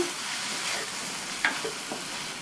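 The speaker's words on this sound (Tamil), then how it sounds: "நல்லா ஒரு தடவை மிக்ஸ் பண்ணி விட்டுட்டு" A steady frying sizzle fills a pan of sambar masala with tomato, onion and salt, while a spoon stirs and scrapes with a few soft clicks. It is close and continuous, with no voices.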